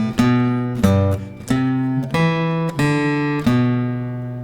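Acoustic guitar picking the opening two measures of a song, a handful of clear plucked notes ringing one after another at an easy pace, close and solo with no voices.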